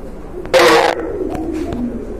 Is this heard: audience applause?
no